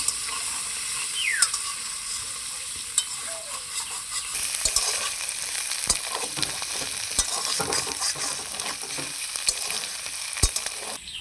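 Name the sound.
potatoes frying with salt and turmeric, being stirred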